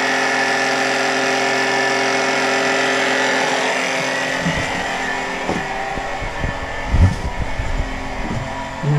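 A small pump polishing diesel fuel runs with a loud, steady mechanical whine and hum, and from midway a burbling, gurgling liquid churn joins it as fuel is drawn through the pipe.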